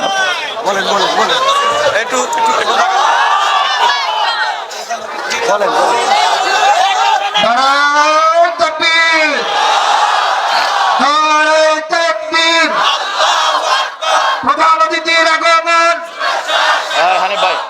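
A large crowd at an Islamic Quran tafsir mahfil gathering in Ashulia chants a religious slogan in loud call-and-response bursts, voices rising together in rhythmic waves over an amplified leader.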